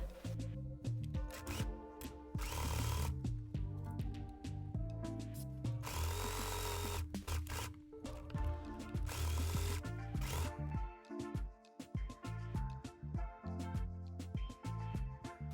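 An electric sewing machine runs in long sustained bursts while hemming a top with elastic, its motor whirring loudly with pauses in between, close and alone.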